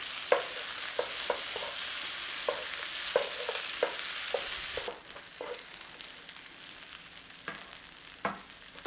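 Frozen peas stirred into a spiced potato filling in a frying pan, with soft scraping strokes and light clatter over a steady sizzle that drops to a quieter fry partway through.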